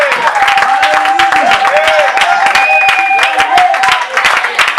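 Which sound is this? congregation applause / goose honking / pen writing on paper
congregation applause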